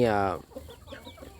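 Village chickens at a low-cost coop fed on herb-scented feed; a loud clucking squawk opens, then softer scattered clucks and pecking sounds follow close by.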